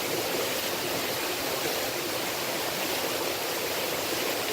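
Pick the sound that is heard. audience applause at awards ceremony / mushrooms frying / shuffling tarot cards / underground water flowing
underground water flowing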